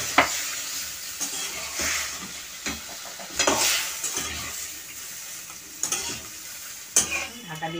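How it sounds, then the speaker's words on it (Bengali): Chopped green mango stirred and sizzling in a pan for chutney, a steady fry with repeated utensil scrapes against the pan close by. "আমটা এবার আমি দিয়ে দিচ্ছি, জল সিদ্ধ দেবো, দিয়ে জলটা পুরো আমি শুকিয়ে নেব।"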